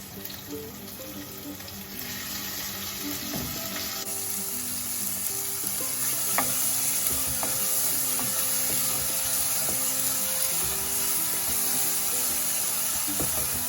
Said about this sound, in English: Just fry it maybe for 2 minutes and it ready.